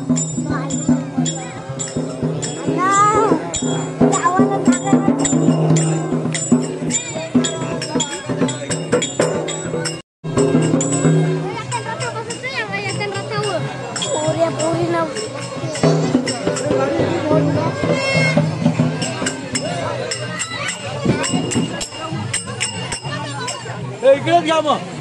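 Dense crowd babble at a Ganesh idol immersion procession near a harbour, many voices overlapping with clinks and shouts, a brief drop-out partway through, and someone talking over the din.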